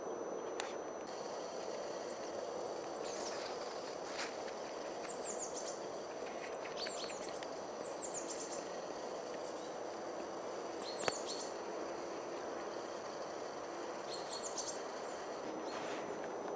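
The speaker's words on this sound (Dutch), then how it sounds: "Gelukkig hoor je de vogeltjes ook" Faint birds chirp and trill intermittently in the distance over a steady wash of outdoor noise, with one sharp click midway, on a winter walk in the Brabantse Wal woodland.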